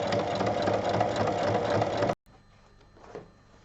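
Sewing machine stitching fabric strips together, a steady close mechanical whir that runs for about two seconds and cuts off sharply, followed by faint handling noises.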